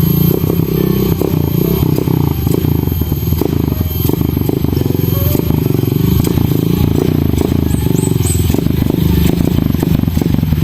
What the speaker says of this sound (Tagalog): Oh, ini andaro na ang motor.